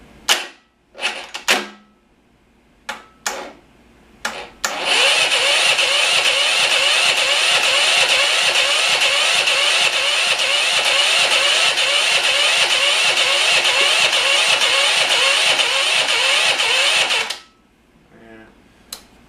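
A Yamaha MA190 pressure washer engine, started cold, takes several short pull-cord tugs, then catches and runs loud and steady for about twelve seconds before cutting off abruptly.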